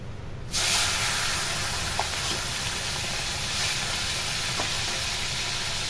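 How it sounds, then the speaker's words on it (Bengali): Marinated prawns go one by one into very hot oil. A loud, broad sizzle bursts in abruptly and holds as a steady, close hiss with no talking. "মাছগুলো একে একে আমি ছেড়ে দেবো তেল ভালোই গরম হয়ে গেছে"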